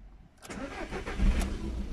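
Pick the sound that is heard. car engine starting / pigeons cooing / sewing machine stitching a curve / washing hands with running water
car engine starting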